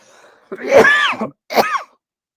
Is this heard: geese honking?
no